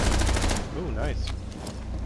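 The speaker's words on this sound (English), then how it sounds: "I shot frickin' mute on the ground with the shotgun at 2 feet away" Shotgun fire in the tactical shooter Rainbow Six Siege, a quick burst of close, loud shots in the first half second followed by lighter in-game sounds and faint voice-like tones.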